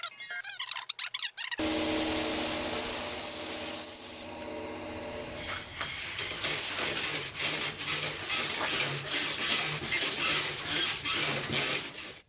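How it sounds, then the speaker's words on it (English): High build primer on a Toyota Land Cruiser 200 Series bonnet is sanded by hand, a close, loud, steady scratchy rubbing that turns into rhythmic back-and-forth strokes, with no talking. "So we just continue sanding this bonnet down with a"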